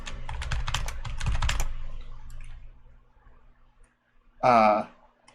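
Rapid clattering keystrokes on a computer keyboard for about a second and a half, then quiet, followed by a short burst of a voice.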